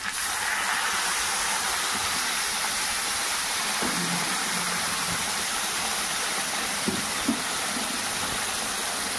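Hot water goes into a pot of nearly cooked home-made chicken curry, producing a steady rushing hiss that fills the whole stretch, with a couple of faint knocks near the end.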